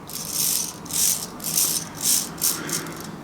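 A small hobby servo driven by a servo tester sweeps back and forth, giving about six short buzzing whirs in a regular rhythm, each lasting roughly half a second, close up and with no voices.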